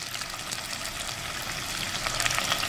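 Anchovies sizzle and crackle steadily in a pan as they are gently stirred and turned, a close, continuous frying hiss with no talking.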